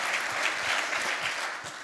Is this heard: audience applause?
yes